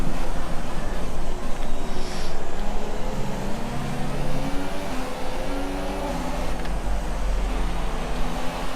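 Formula 1 car engines in the F1 2017 racing game at the Australian Grand Prix, a continuous loud engine whine with rising and falling pitch as the cars accelerate, with no talk.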